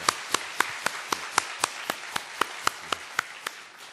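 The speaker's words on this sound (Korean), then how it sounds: "자리에서 잠깐 일어나 주시면 우리 박수로 환영하겠습니다" A single person claps alone in a church service welcoming a new member, about fourteen evenly spaced, crisp claps at a brisk steady rhythm, fairly close and moderately loud, fading slightly at the end.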